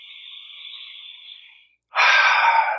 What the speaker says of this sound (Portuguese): respirando profundamente.